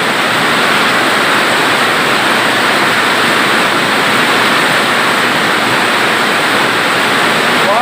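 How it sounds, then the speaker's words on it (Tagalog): A downpour of heavy rain hisses continuously and loudly, a thick, even wash of sound with no pauses and no talking. "lakas na ng ulan."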